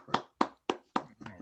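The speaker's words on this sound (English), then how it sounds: "I call those cartoon claps." Cartoon clapping sound effect on a video call: five crisp, evenly spaced claps in a steady rhythm, loud and close, each with a quick sharp attack and fast decay.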